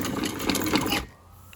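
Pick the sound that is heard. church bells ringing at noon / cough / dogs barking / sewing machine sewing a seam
sewing machine sewing a seam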